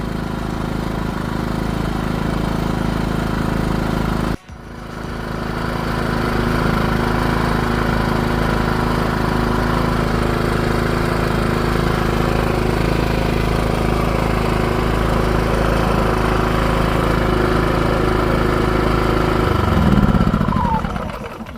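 A Dnipro-M GX-30iG inverter gas/petrol generator runs on its first start with a loud, steady engine drone. A short dip partway through is followed by a sustained run and a slight rise in pitch near the end.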